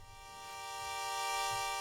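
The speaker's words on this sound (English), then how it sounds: "let's go ahead and just build a basic wavetable drone pad," A soft, sustained wavetable synthesizer drone pad with a slow envelope swells slowly in volume, holding a steady chord with rich, shimmering upper tones and no voices.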